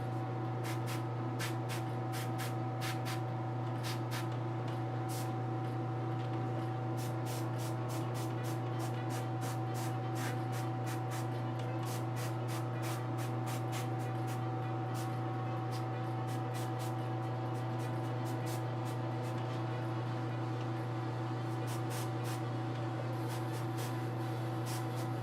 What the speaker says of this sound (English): just kind of keep going with my airbrush and try to get it to where I want it